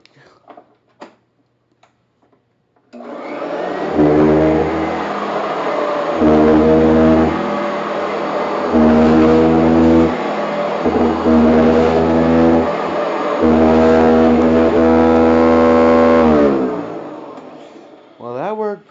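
A Eureka Sanitaire commercial vacuum cleaner with a bag fitted runs as a loud, steady motor drone with a pulsing rhythm that swells and dips repeatedly before it shuts off.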